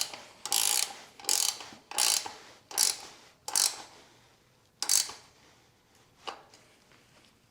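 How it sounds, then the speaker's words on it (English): A 15mm wrench ratchets in short repeated bursts while bolts are tightened on an Alpha Murf electric bike during assembly, about eight crisp metallic clicking strokes spaced under a second apart, close and clear with no talk. "So I'm just going to use my 15mm wrench."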